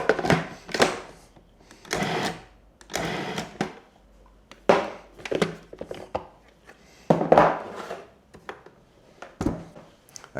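A food processor pulses in short repeated whirring bursts, about eight on-off chops in an even rhythm, mincing ingredients close by.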